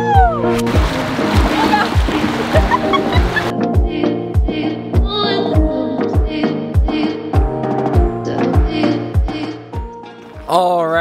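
Someone wades across Caribou Creek, a cold Alaskan river, making rhythmic, close, loud splashes with each step. Excited voices call out over the water.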